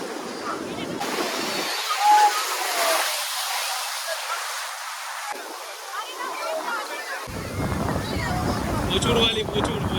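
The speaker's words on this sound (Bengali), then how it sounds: "বড় বড় কিন্তু ঢেউগুলোও আসছে দেখো ঢেউ একবার" Large sea waves crash and wash continuously along Puri beach, a loud, rushing roar with heavy wind buffeting the microphone and a surge of churning water toward the end.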